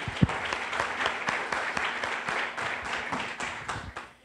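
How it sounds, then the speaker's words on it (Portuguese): Church congregation applauding at a Sunday service, a steady wash of many hands clapping in a reverberant hall, with a few sharper individual claps standing out before it tapers off at the end. "obrigado pelos aplausos do teu povo"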